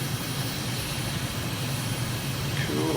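Jet aircraft in Microsoft Flight Simulator banking through steep turns low over a river valley near Ljubljana, Slovenia, giving a steady, loud engine roar with a faint whine rising near the end.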